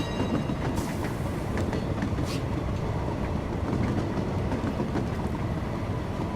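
Trains rolling on rails in the puzzle game Train Valley, a steady rumbling clatter of wheels with faint clicks and occasional light squeals, continuous and moderately loud, with no talking.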